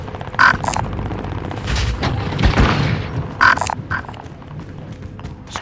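A frag grenade goes off in a Call of Duty Resurgence match, a single dull boom midway through, amid scattered gunfire pops and mechanical game noises.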